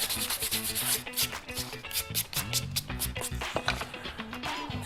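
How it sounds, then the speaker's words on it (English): Steady abrasive rubbing and scraping, like a sanding disc working a surface, with rhythmic scuffing strokes and a busy mechanical backdrop throughout. "Clean off the sanding disc."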